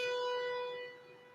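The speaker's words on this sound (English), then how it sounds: "Debbie, you can hear the tornado siren going off." A steady wailing tornado siren tone, distant and sustained, with clear harmonics, gradually dropping in volume toward the end.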